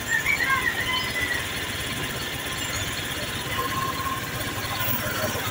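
Samo, a scooter with freshly changed oil, starts up and settles into a steady engine idle that runs continuously, close by and moderately loud, with a faint squeal and vibration over it.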